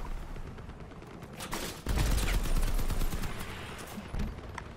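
Machine gun turrets fire in the Crossout vehicle combat game, a dense, continuous rattle of overlapping bursts that swells louder near the midpoint and keeps pounding to the end.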